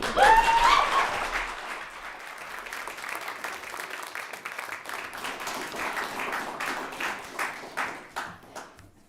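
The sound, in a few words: audience applause at poetry recitation competition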